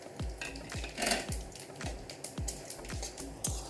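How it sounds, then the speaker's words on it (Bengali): Dried red chillies, bay leaves, cinnamon, cracked cardamom and cloves tempering in hot oil in a pan, a soft sizzle under repeated utensil strokes and clinks, no talk. "তেলটা গরম হয়ে গেছে, দিয়ে দিচ্ছি 2টো শুকনো লঙ্কা, 2টো তেজপাতা, দারচিনির টুকরো, এলাচ দিয়েছি 4টে ফাটিয়ে, আর লবঙ্গ।"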